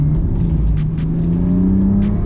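A BMW M4 Competition accelerates hard out of a turn, its engine droning loud and close with a rising note and sustained power throughout.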